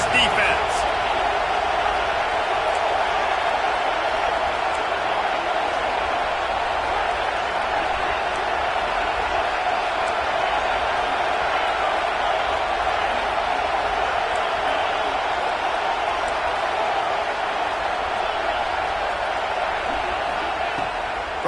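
Football stadium crowd at a Duke game roaring for the defense, a constant broad wash of cheering beneath a commentator talking throughout.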